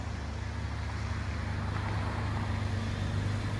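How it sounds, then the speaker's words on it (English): 2004 BMW M3 convertible idling with its engine running, a steady low exhaust rumble and hum throughout, close and even with no talking. "I left it running so you could hear the exhaust."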